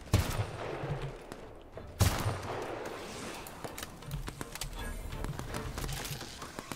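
Repeated bursts of gunfire from The Outer Worlds crackle fairly loudly, with two sharp volleys standing out amid a steady rattling stream of shots.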